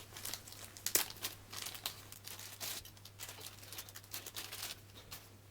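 Plastic packaging crinkled and torn open around replica GoPro extension mounts, a steady close rustle with one sharp crackle near the start.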